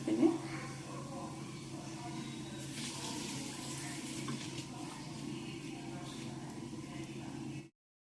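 Fresh leaves being rinsed under running water, a steady close splash and trickle from a tap that runs evenly for several seconds before cutting off abruptly.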